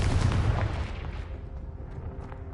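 A Confringo spell explosion from Hogwarts Legacy bursts loudly as a deep rumbling blast and then decays into a fading rumble with scattered debris crackles.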